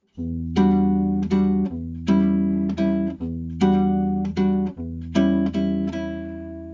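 A guitar strums a series of sustained jazz chords in a steady rhythm, each ringing briefly before the next, played alone and up close.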